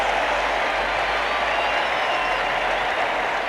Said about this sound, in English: the Red Sox take the field to the roar of this great crowd